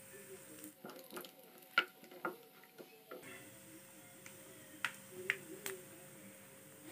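Fennel seeds, cumin and dried red chilies fry in hot oil for a Tamil quail gravy, a quiet sizzle broken by sharp pops and crackles, with a few louder spits near the start and again later.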